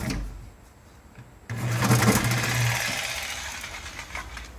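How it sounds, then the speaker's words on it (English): A DeWalt power saw starts abruptly and runs steadily with a loud buzzing, vibrating drone that holds at a fairly even level, close by and with no voices. "This is a DeWalt saw, but these blades will not stay in this saw."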